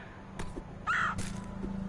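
A bird in the video game Celeste caws in a few short, clear calls, one louder and longer than the rest, over a quiet game background.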